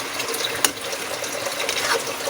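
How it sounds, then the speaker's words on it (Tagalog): Water poured into a pot of green papaya being cooked as a vegetable dish, a steady close splashing gush with one brief sharp spike early on, heard alone with no talking. "lalagyan natin siya guys ng konting tubig"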